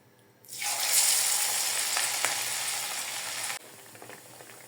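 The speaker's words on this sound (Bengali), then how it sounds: "বাঁধাকপির পাকোড়া ভাজতে ভাজতে আপনাদের কাছ থেকে আমি বিদায় নিয়ে নিচ্ছি।" Cabbage pakoras coated with bread crumbs drop into hot oil with a sudden loud, steady sizzle that holds for about three seconds, then quiets to a softer bubbling.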